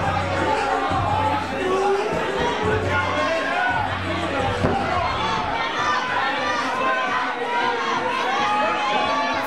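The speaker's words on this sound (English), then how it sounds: "Fans cheering on Dallas Kyle here, urging him to get up." Wrestling fans at Rumble in the Dot 2021 cheer on Dallas Kyle, a dense crowd roar of shouts and chatter that stays loud and continuous throughout.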